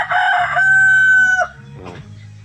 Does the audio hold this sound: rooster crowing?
yes